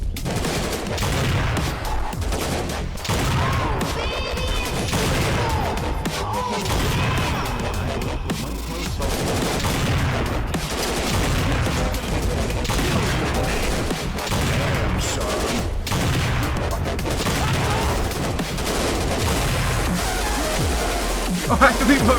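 Assault rifle fire in a video game, dense bursts of rapid shots and impacts running nearly nonstop at a loud, steady level, with a player talking over it.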